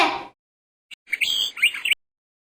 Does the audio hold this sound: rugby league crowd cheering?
no